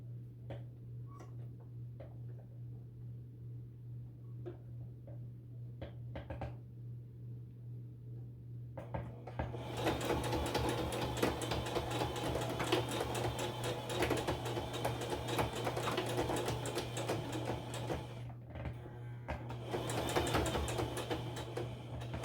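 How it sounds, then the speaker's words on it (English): A sewing machine stitches around the edge of a baby blanket, starting with a few soft clicks and then breaking into a steady, fast mechanical whirring chatter that runs on continuously, close up, with a brief pause near the end. "So let's go ahead and start stitching away at the perimeter."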